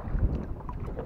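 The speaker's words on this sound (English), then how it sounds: "it's getting a bit windy and stuff" Wind gusting over a river from a small boat, a steady low rumble of moving air and water with a brief stronger buffet near the start, no voices.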